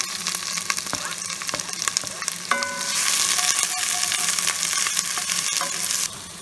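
Onions fry in butter on a gas grill burner with a loud, continuous sizzle. Clinks and scrapes of stirring run through it, and the hiss swells midway.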